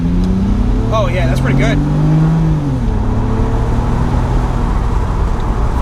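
A BMW Z3 floored hard in first gear, its engine note rising loud and close, with a brief pitch sweep partway through, while someone speaks over it near the start.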